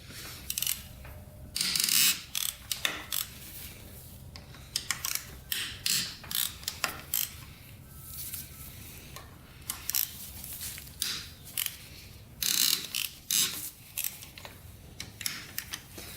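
A wrench ratchets loose the bolts on a Honda TRX450r quad, giving repeated bursts of sharp, close clicking with short pauses between turns and occasional metallic clinks.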